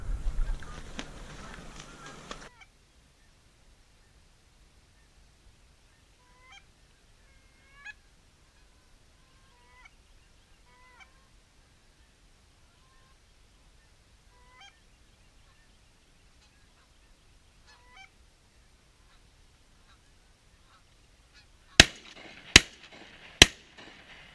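During a late-season goose hunt, a flock of geese honks faintly in the distance, with scattered calls over near silence, followed by three sharp, loud bangs close by at the end.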